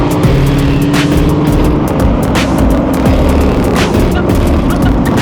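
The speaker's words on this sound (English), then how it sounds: "BGC is alive with the sound of the harmonious V8 from the Mustangs." Ford Mustang V8 engines rumbling through a city district during a club anniversary meet, a loud continuous roar of several cars passing close with revving, crackles and pops layered over one another.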